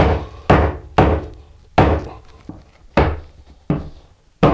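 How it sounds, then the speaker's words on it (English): Seven heavy, dull thuds of a rubber mallet striking a wooden 2x4 while building a shower pan, evenly spaced at a steady pace, each with a short ringing decay. "now I'm going to smack it with my rubber mallet until I get down to that line"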